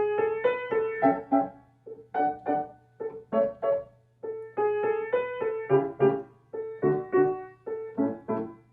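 A solo piano plays a short passage of chords and melody, clear and close, phrases separated by brief pauses.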